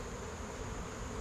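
Honey bees buzzing inside an open hive being inspected during requeening, a steady dense drone that holds evenly through the whole moment with no voices.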